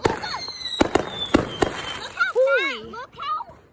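Fourth of July fireworks burst outdoors as a string of sharp, loud cracks and pops in the first half, followed by people talking and exclaiming.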